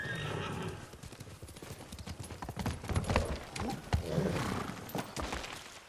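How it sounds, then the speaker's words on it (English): Horse in a video game, galloping hooves clip-clopping with whinnies over busy game noise and rumbling, steady and fairly loud throughout. "Why did my horse jump out like that?"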